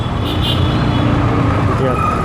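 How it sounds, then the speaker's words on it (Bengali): Jammed road traffic, heard from a vehicle slipping past along the side: a loud, steady, close wash of engine rumble and road noise with no clear breaks. "এত জ্যাম লেগে আছে, কিন্তু আমি সাইড দিয়ে চলে যাচ্ছি"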